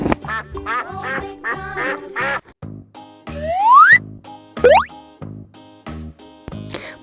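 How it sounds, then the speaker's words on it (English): Cartoon-style duck quacks mix with bouncy boing and plop effects over a playful tune in a children's farm-animal learning programme, with a few quacks standing out clearly. "Oh, here we have white duck."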